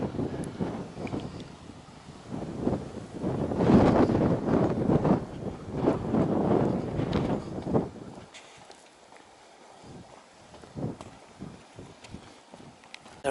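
Wind gusts buffet a microphone on an exposed upland spot, loud broadband rushing in surges for about eight seconds, then dropping to a quieter hiss with occasional soft knocks and light rustles.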